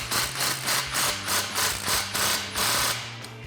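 A ratchet is clicked several times while tightening an exhaust clamp on the axle-back exhaust of a 2018–2019 Mustang GT. The bursts are close and rhythmic, about seven strokes, each a rasping run of clicks.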